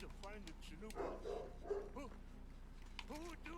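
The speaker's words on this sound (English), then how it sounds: "That's a dog." A dog in the video game Red Dead Redemption 2 barks and yips in quick bursts over a low game hum, with voices talking throughout.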